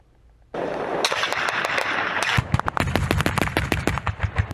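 Rapid bursts of automatic gunfire ring out at Russian joint military exercises in Belarus, a sustained roar of shooting breaking into sharp, close, loud repeated cracks.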